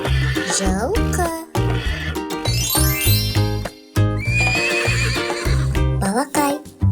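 A horse whinnies repeatedly in loud, close, rising and falling calls, with a voice talking between them, in a children's guessing game about farm animals.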